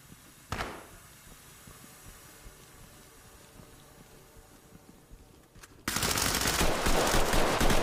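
Gunfire in the tactical shooter game Ready or Not: one sharp report early on, low scattered game noise, then a loud dense burst of sustained fire near the end.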